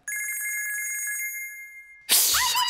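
A telephone rings in a steady, electronic pulsing tone for about two seconds, loud and close, in a Tamil film comedy scene. It is then cut off by a sudden loud burst of noise.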